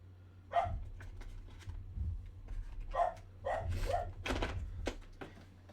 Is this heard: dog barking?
yes